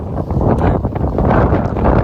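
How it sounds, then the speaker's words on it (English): Strong gusty wind buffeting the microphone at a wild camp near Ashway Rocks in the Peak District, a loud low rumble that surges and drops throughout. "It's windy"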